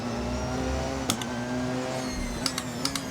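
A steady, low engine drone from a Porsche racing car in the video game Assetto Corsa hums continuously, with a few brief clicks and ticks popping in near the end.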